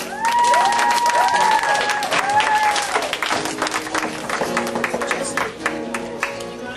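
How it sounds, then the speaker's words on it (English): A live music audience claps and cheers for a band after a set, loud dense applause with whoops and whistles rising early, then gradually thinning into scattered claps. "Give them a round of applause,"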